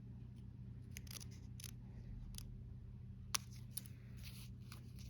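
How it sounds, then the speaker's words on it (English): Scissors snipping through a folded paper card for a Christmas gnome and poinsettia design, a few crisp close cuts scattered over a steady low background hum, no talking. "I'm just going to cut it right to the center with my scissors."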